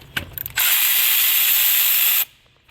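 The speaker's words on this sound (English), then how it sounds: "Let's take that bolt off. It is a 16mm." A power tool spinning off a tight 16mm bolt on a Pentastar engine, a few ratcheting clicks followed by a loud, steady, near whirring burst that stops abruptly.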